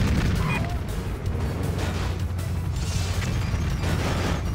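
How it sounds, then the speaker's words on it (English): Dense rumbling blasts and crackling bursts from an exploding bridge in the car game Stuntman roll on continuously at moderate volume. "Across the exploding bridge."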